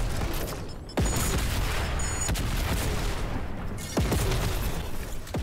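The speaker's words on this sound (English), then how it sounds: "you just shoot a bunch of these explodey things" Explosive weapon fire in Fortnite, rapid repeated launches and booming blasts spammed at an enemy, dense and continuous over low rumble.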